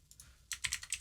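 Typing on a computer keyboard for a Django and React tutorial: a few light key taps, a pause, then a quick burst of louder, closer clicks in an irregular rhythm.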